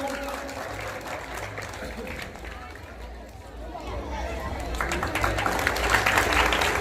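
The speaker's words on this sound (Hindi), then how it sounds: "तालियों से स्वागत किया जाए" An audience at a village group's stage felicitation event claps to welcome a performer, mixed with crowd chatter and an announcer's voice; the applause starts moderate, dips, then swells louder toward the end.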